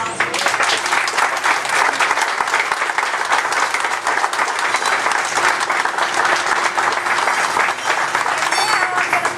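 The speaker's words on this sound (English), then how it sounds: "So I think we should all give a round of applause." Audience applause at a shelter house dedication ceremony: loud, dense clapping from a crowd sustained throughout, with scattered cheers and voices mixed in.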